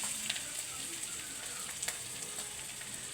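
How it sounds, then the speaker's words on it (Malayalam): Curry leaves and onions fry in hot oil, a steady close sizzle with faint crackles running through without pause, and no one speaking. "കരിവേപ്പില ഇട്ടു, ഉള്ളി വഴണ്ടു."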